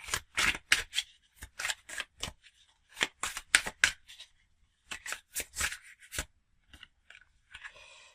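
Tarot deck being shuffled by hand, close, crisp riffling and slapping card noises in irregular bursts with brief pauses between them.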